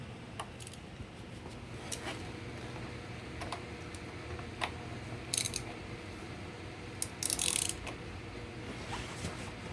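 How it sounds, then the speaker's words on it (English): A ratchet loosening a nut on a motorcycle chain sprocket, giving sparse, faint mechanical clicks and ticks over a quiet background hum, with a couple of brief louder rattles near the end. "the fact that I'm able to use a ratchet here is going to make this job a whole hell of a lot easier"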